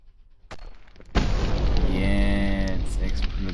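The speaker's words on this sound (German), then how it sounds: "Jetzt explodiert er in einem riesigen Feuerball." A sudden loud boom bursts in after a quiet lead-in, followed by a sustained roaring rumble with a rising whine, as a truck explodes in a huge fireball in the game Brick Rigs.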